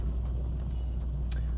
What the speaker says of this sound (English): Let's all take note of the exhaust sound I currently have